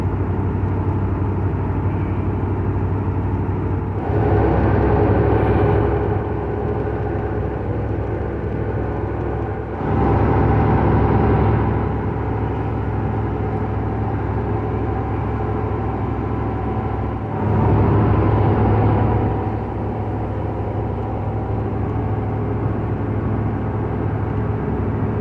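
A 1998 Ford F150 pickup truck driving on the road, with a steady engine and road drone throughout and three louder swells as the truck accelerates. No talking.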